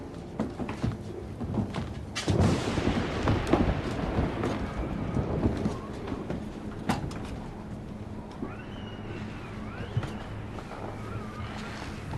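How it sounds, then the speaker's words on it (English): Wind howls steadily around a house on a stormy night, a dense continuous roar with gusts rising and falling, mixed with creaks, thumps and faint knocking sounds throughout. "I can't stand the sound of that wind."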